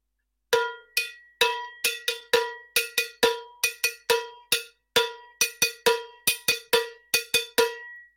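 A cowbell plays a steady salsa rhythmic pattern alone, mixing ringing open-side strokes with shorter, damped closed-side strokes, each hit clear and close.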